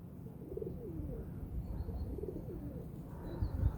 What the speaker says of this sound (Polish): Także tyle gołębi przyszło jak na razie.